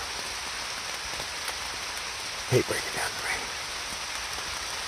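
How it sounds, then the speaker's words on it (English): Rain falls steadily on a hiking trail in Vermont on the Appalachian Trail, a close, constant hiss of drops with a few louder patters, and a person speaks briefly partway through. "But it's raining now."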